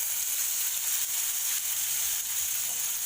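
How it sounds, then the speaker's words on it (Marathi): Finely chopped onion goes into hot oil with garlic, for a ridge gourd and chana dal dish. A soft, even sizzling hiss holds steady throughout at moderate loudness, with no voices. "लसूण घातल्यानंतर आपल्याला हा बारीक चिरलेला मी कांदा घालणार आहे"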